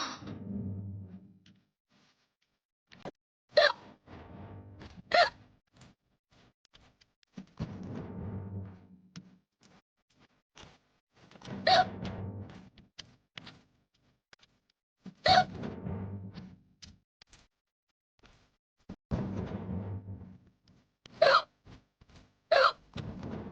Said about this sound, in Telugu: నీకేనా ఎక్కిళ్ళు వచ్చేది?